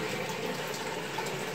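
Water held back by a dam in an old mine runs through a pipe with a steady, continuous rushing hiss, close and unbroken.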